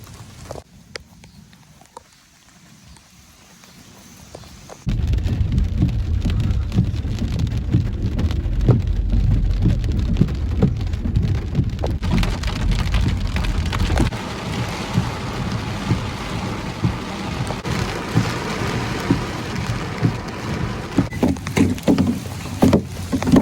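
Heavy hail and rain pound down hard in a storm, a dense, steady roar of impacts that starts abruptly after a quieter opening and continues loud to the end, with no talking.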